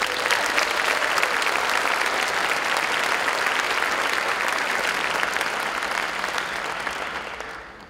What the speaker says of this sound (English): we can also applaud you as well.